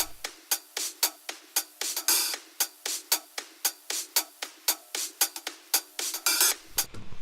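A sampled funky drum loop, mostly crisp hi-hat and snare hits with the low end cut away, playing a tight syncopated groove of evenly repeating bright strikes, clear and alone.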